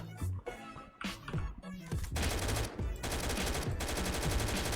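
Guns fire at monsters in SCP: The Red Lake. Scattered single shots come first, then a long, loud burst of rapid automatic fire with a couple of short breaks.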